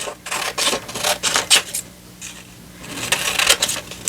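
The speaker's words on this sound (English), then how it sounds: "Let's just cut out some of these little framed photographs, old photographs" Scissors cutting small photographs out of an old magazine from the 80s or 90s, close, uneven snipping and rustling strokes in quick bursts with a short lull midway.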